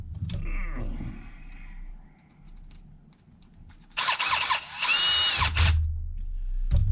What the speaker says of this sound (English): Get the old drill gun out here